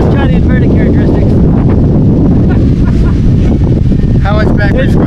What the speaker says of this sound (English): Look at how windy it is.